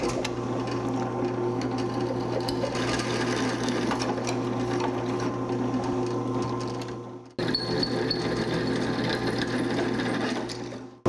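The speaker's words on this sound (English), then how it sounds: "Now we'll drill a hole slightly larger than the bolt we're going to use" A drill bores holes through the boxed frame of a 1984 Jeep CJ7, a steady close mechanical whir running continuously, briefly cutting out before resuming for a second bore.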